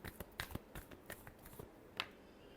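Tarot cards being given a final shuffle during a reading, heard as a series of short, crisp riffles and soft snaps, close and quiet, with no talking.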